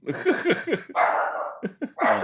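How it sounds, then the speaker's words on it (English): A pet dog barks in a room, a quick run of loud, close yapping barks with short pauses between bursts, heard alone with no talk over it. "that's my dog, man."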